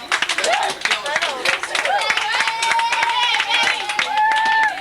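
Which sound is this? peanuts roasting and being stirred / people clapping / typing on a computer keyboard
people clapping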